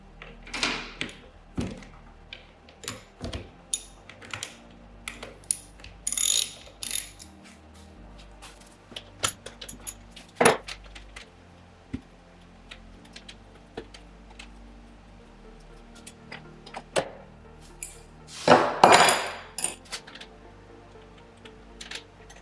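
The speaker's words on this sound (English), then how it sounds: "I'm now going to use a 10mm socket on either side to undo the threaded rod." A ratchet with a 10mm socket undoes threaded rod on a Chevy Bolt EV battery module, giving scattered clicks, clunks and metallic knocks at close range with quiet gaps, plus a louder burst of handling noise near the end.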